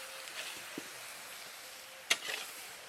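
Gobi pakora, battered cauliflower fritters, frying in oil in a wok: a faint, steady sizzle with a few brief stirring clatters, including one sharp knock near the end.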